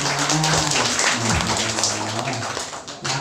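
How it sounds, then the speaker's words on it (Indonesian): Clapping rises from an audience at a Quran school graduation ceremony, partly masked by a steady tonal hum and some background voices, and fades toward the end. "Kasih tepuk tangan."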